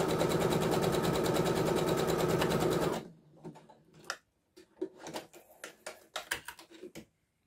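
A sewing machine stitches a shallow zigzag at stitch length 3 for a Coco dress, running loud and steady for about three seconds, then stopping and giving way to scattered faint clicks and handling noises.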